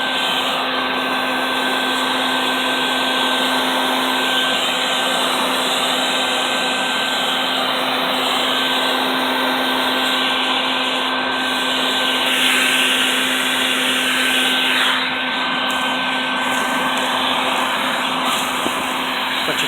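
A vacuum sucking up a yellow jacket nest makes a loud, steady, close whine that holds a constant pitch throughout, with brief rattles as debris is pulled into the hose and no talking.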